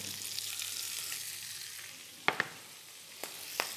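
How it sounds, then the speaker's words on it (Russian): A constant quiet sizzle of onion, carrot and celery frying in a pan, broken by a few sharp clicks and taps of a utensil. "Мы обжарим овощи"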